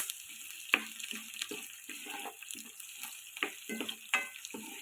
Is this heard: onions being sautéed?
yes